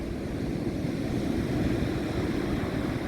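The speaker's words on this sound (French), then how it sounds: "les vagues sont un peu fortes pour moi ce matin" Steady, broad rush of ocean surf at a beach on a morning with fairly strong waves, continuous and moderately distant with no distinct individual breakers.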